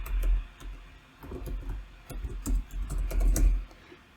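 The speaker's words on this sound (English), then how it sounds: "we will type the current password and a new password and confirm the new password again" Rapid keystrokes on a computer keyboard as a password is entered, close and crisp clicks in irregular bursts with short pauses, alone without talking.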